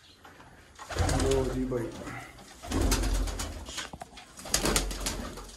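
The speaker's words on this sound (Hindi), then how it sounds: "कबूतरों को देखते हैं जी, इन्होंने भी कुछ तरक्की की है कि नहीं की।" Pigeons coo repeatedly nearby in soft, throaty bursts, with someone speaking briefly over them.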